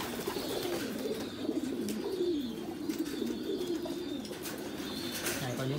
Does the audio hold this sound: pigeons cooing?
yes